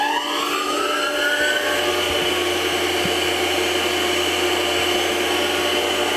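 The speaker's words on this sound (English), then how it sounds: "we've got it set up with a reasonably big cutter running 5000 maximum RPM. High coolant flow." A CNC milling machine spins a large cutter at up to 5000 RPM under high-volume coolant flow, giving off a steady, close, continuous whirring hiss with a faint tone that rises at the start and then holds level.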